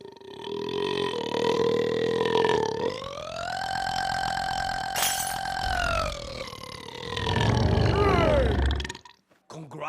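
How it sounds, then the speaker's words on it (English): A long, drawn-out burp in an animated holiday comedy film, a low tonal belch with a steady rising pitch that drags on for several seconds, loud and unbroken, ending in a rumbling tail before cutting off. "let's add a long burp in there"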